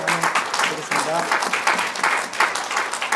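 A church congregation claps to welcome visiting members during a Korean-language worship service, the clapping uneven and mixed with voices in the room.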